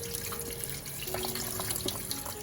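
Tap water runs into a sink while the soaking water is changed on a batch of fresh green olives, a steady close splashing stream with light gurgles and drips.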